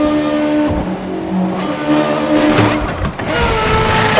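An F1 car engine in the F1 2012 video game, driving the pit lane at the Brazil race: a loud, steady, buzzing high-pitched drone that shifts pitch slightly as the car rolls along, with no voices.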